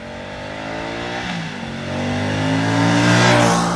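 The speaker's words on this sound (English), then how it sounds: "When you're going down and popping down the gears, the exhaust starts popping and banging, smoothly going into second and first gear." Moto Guzzi V100 Mandello V-twin motorcycle downshifting into second and first gear, its exhaust popping and banging; a loud, rising engine roar builds steadily with crackling overrun, no talk.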